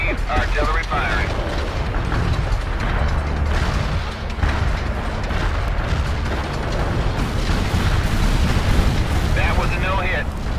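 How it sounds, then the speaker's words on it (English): Artillery shells fire and explode in the World in Conflict video game, a rumbling barrage of deep booms and blasts rolling continuously with wind-like noise over the battlefield. "Artillery firing."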